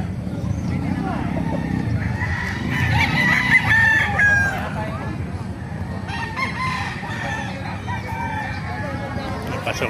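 Roosters at a crowded chicken market in Bocaue crow loudly several times, with clucking and busy crowd chatter running underneath and people talking nearby.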